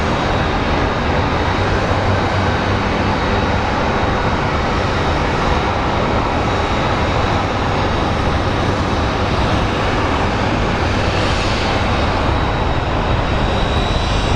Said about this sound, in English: this flight is landing from Portland.